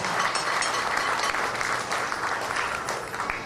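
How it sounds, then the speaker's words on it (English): An audience of over two thousand people at a Ganesh Utsav gathering bursts into sustained, dense applause that stays loud and even throughout, with no one speaking over it. "Let us give him a wonderful round of applause"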